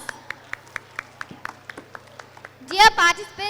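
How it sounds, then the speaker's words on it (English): Scattered hand claps from a small audience welcoming a junior quiz team at a school quiz event, steady and moderately close, fading into a voice speaking at the end. "let's welcome them with a thunderous applause"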